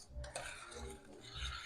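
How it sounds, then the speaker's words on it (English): A spoon stirs dry sugar, salt, cornstarch and flour together in a pan, making quiet scraping and rubbing strokes in a short, uneven rhythm. "So now I got to mix in the cornstarch and flour with it, like so. And we're going to stir all that up real quick."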